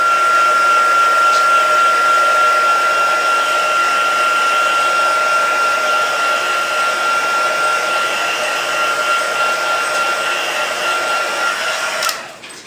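Steady, loud whoosh of a heat tool blowing hot air to heat set ink on paper for a modified Z fold card, running continuously and alone for about twelve seconds before cutting off.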